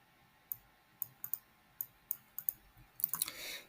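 Computer mouse clicks, about ten sharp dry taps at uneven intervals in a quiet room, ending in a quick cluster of clicks and a soft rustle.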